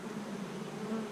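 Bees buzz in a dense, continuous drone around a hive being cut out, close and steady throughout with no voices.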